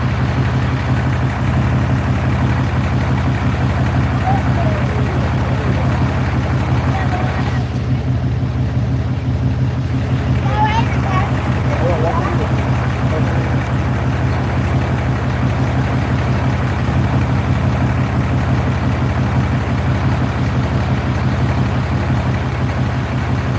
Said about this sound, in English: That's why you hear about truck idling.